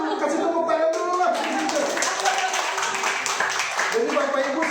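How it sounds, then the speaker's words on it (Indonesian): Church congregation clapping hands during a Sunday worship service in Tanjung Priok, a steady dense patter of claps filling the room throughout while voices talk underneath. "kasih tepuk tangan dulu lah"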